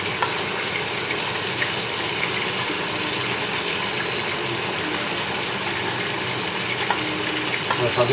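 Pieces of mackerel or sardine frying in a large pan for escabeche, a steady crackling sizzle with watery bubbling that runs continuously and fairly loud at close range, with no talk over it.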